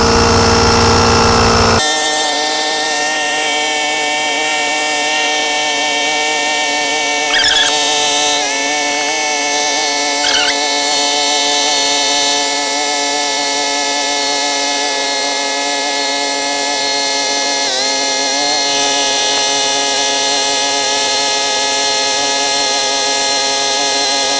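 A portable Smile tire inflator switches on after a brief moment and runs continuously, pumping air into a tire with a loud, steady high-pitched buzzing drone and a few faint clicks and squeaks along the way.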